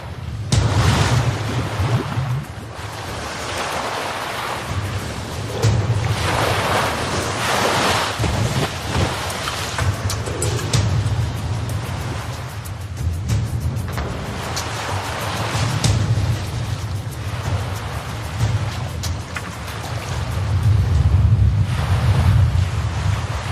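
Strong wind over 50 km/h roars and buffets the microphone over rolling surf on the Australian coast, in gusts that swell and ease throughout, with no voices.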